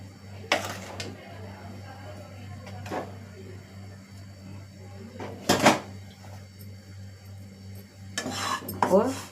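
Flour dry-roasting in a hot pan produces sparse, fairly loud scrapes and clanks of a utensil against the metal over a low steady hum, with no sizzle.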